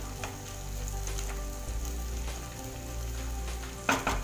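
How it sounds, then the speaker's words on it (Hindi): Finely chopped chillies sizzle steadily in a hot pan while sarson ka saag is cooked, a close, continuous frying hiss with a sharper burst of crackle near the end. "अब इसमें बारीक कटी हुई मिर्ची डाल दूंगी।"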